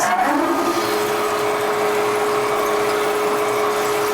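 A drill bit in a lathe cutting at low speed, around 315 RPM, making a steady loud mechanical whir with a sustained hum that holds evenly throughout, with no talking.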